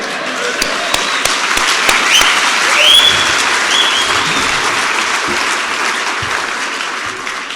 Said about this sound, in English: Let the taped record show that everybody in here applauded.